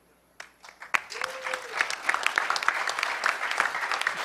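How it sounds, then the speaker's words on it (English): Audience applause for hackerspaces.org panelists at The Last HOPE hacker conference in 2008, rising from a few early claps into a sustained, fairly close round of clapping with a murmur of crowd noise. "Huge round of applause for hackerspaces.org."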